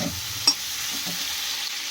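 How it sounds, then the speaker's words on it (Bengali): Cauliflower pieces frying unsalted in a pan, a steady, close sizzle broken by a sharp clink of a utensil stirring near the start and a few soft scraping touches. "ফুলকপিটা ভাজার সময় কোনো লবণ দেব না"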